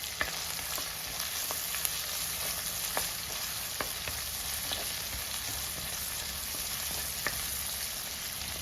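Onions, ginger, green chilli and garlic sauté in a pan for Kerala-style mulakitta fish curry, giving a steady dense sizzle with occasional sharp spatters and light stirring clicks, close and continuous without talk.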